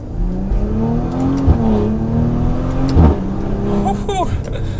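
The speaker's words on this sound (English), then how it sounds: "so we can hear that exhaust. As we downshift here, we'll take off again." A 2019 Maserati Levante S GranLusso's exhaust in sport mode drones loud and close as the engine downshifts, then climbs in pitch while the SUV accelerates away, with a few sharp pops along the way.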